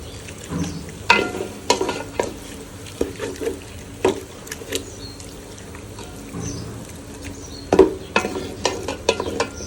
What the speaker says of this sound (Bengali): এখন আমরা কিছুক্ষণ মাংসটা কষাতে দেব